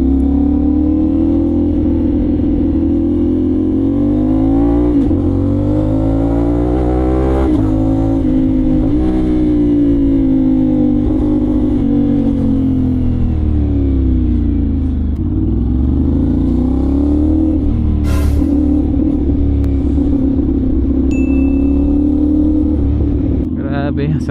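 A 450NK motorcycle engine revs hard and climbs through upshifts on an open road, its loud, close drone rising and dropping with each gear change, with wind rush throughout.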